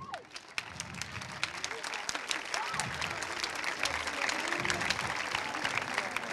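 Sustained applause from a crowd, steady and dense throughout, with a few louder claps standing out near the start.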